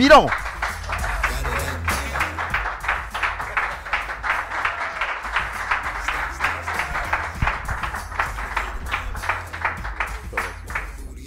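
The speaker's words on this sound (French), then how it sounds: "Merci d'applaudir Monsieur te" Audience at a midday magic show claps for a special guest in rhythmic unison, a long run of steady, evenly spaced beats that holds a brisk tempo, loud and close, with crowd noise beneath.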